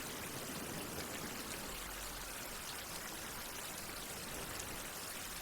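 In a survival video game, water pours into a water tank as a steady, dense rushing splash that holds at an even level throughout, with no voices.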